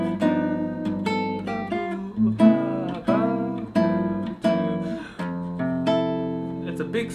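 A guitar plays bar 20 of a song with plucked chords and single notes in a gently syncopated rhythm, clear and close with no talking.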